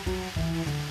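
Red onions sizzle in a pan on high heat, giving a brief, fairly loud hiss with a gentle pulsing texture and no voices.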